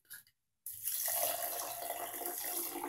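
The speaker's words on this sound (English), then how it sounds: "So you add your quarter cup of rice, then you add a cup of water, dechlorinated." Dechlorinated water pours steadily from a tap onto a quarter cup of rice in a container, a continuous close, bright splashing rush that starts abruptly after a brief pause and runs without talk.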